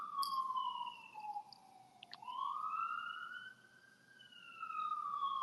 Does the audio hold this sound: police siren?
yes